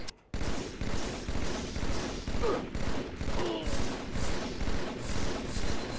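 Rapid automatic gunfire from Halo: The Master Chief Collection rattles in dense, repeated bursts at a steady rhythm, loud and close, continuing almost without a break.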